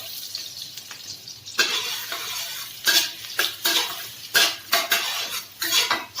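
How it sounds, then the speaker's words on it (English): Garlic and small baby chili stir-fry over high heat in a wok for a cereal eggplant dish: a loud burst of sizzling, then repeated metal scraping and clanking from the spatula in quick, uneven strokes. "Stir fry until the fragrance comes out."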